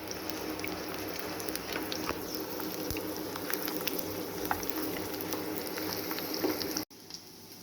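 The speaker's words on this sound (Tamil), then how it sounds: "பாருங்க, பூண்டு நல்லா வதங்கி நல்லா சுருங்கி வந்துடுச்சு." Garlic fries in a pan for a garlic pickle, giving a steady soft sizzle with scattered small pops and crackles, close and fairly quiet, before cutting out abruptly near the end.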